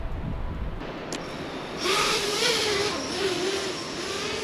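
FPV drone in flight during extreme winds, a thin buzzing whine with a wavering pitch rising after a gust-blown start, mid-distance and steady over constant wind noise.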